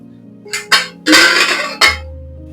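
A pressure cooker lid is opened after the whistles, with a few sharp metal clinks and a scraping clatter close by, followed by quiet.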